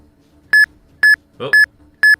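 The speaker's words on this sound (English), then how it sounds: "We got beeps. I repeat, we've got beeps." Four evenly spaced, identical electronic beeps, about half a second apart, from a full-odds shiny hunt for roaming Suicune in Pokémon FireRed/LeafGreen; a brief murmur of voice slips in between the third and fourth tones.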